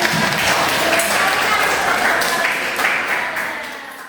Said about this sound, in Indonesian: beri tepuk tangan dulu untuk hari ini